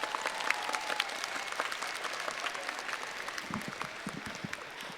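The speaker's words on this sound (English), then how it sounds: "Big round of applause for Mr. Owen Evans." Applause from a festival concert audience greeting a saxophonist, a steady wash of many hands clapping at moderate distance, fairly soft and continuous with no talking over it.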